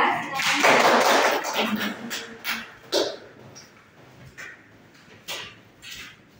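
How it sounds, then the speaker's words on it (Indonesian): A small group claps for a team in a classroom presentation, with a short burst of applause that quickly thins into a few scattered claps and taps while voices murmur. "Tepuk tangan buat kelompok 2"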